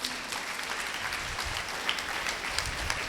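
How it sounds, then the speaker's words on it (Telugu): A church congregation claps together, a steady dense patter of many hands at moderate distance that keeps going without a break. "ఇష్టమైనప్పుడు చప్పట్లు కొట్టండి."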